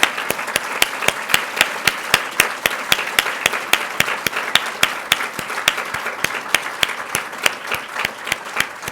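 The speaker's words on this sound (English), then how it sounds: "Let's all give them a round of applause" A conference audience gives students a sustained round of applause, with many hands clapping in a brisk, even rhythm that stays loud throughout without speech.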